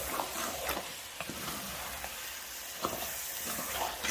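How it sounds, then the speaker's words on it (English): Steady sizzling and stirring as diced tomatoes with their juice and tomato sauce are moved around a hot frying pan for a turkey bolognese, with soft scraping pulses over the continuous fry. "What I'm going to do now is stir this all up."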